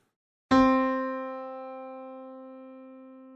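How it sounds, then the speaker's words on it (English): A single piano note, middle C, is struck once and rings out clearly, slowly fading as it sustains; no voices. "the middle C should sound like this."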